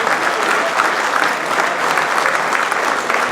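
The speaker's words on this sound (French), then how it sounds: "vous pouvez vraiment les applaudir parce que c'est eux qui font tout le boulot" Loud, sustained applause from an audience at a general assembly of the CR12 in Vézins-de-Lévézou, dense clapping filling the whole moment without a break.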